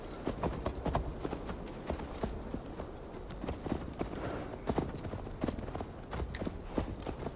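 Horse hooves clip-clopping at a steady ride in Assassin's Creed Valhalla, a continuous rhythmic patter of hoofbeats running throughout, fairly close but moderate in level, with faint background ambience.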